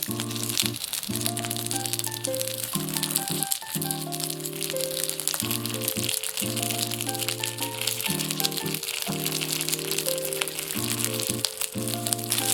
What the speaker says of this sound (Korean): 이제 예열 든 팬에 준비한 꼬지를 올려서 뒤집어가며 약불에서 골고루 익혀줄 거야